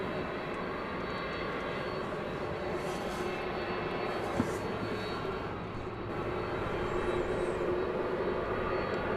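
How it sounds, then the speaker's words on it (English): A UPS Airbus A300 jet takes off from runway 18 Left at Dallas/Fort Worth Airport at night, a loud, sustained engine roar that holds steady and swells slightly toward the end. "That looks like the A300."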